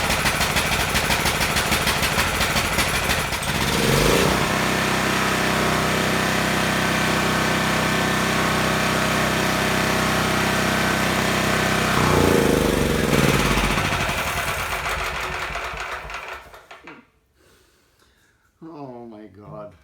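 A Champion portable generator bought at a yard sale runs loud and close with a steady droning engine note that shifts partway through, then cuts out near the end, leaving a short quieter stretch.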